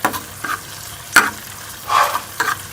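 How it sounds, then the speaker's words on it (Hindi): Chopped garlic frying in a pan gives soft sizzling with a few sharp stirring scrapes and clinks at irregular intervals, close but fairly quiet, with no talking. "कटा हुआ लहसुन डाल देंगे चॉप किया हुआ और इसे 1 मिनट के लिए हम जो है वो फ्राई कर लेंगे।"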